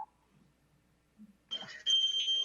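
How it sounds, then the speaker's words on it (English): A fire alarm sounds in the background with a sustained high electronic tone that starts suddenly after a near-silent stretch, faint and distant behind a remote meeting. "I have a fire alarm going on behind me."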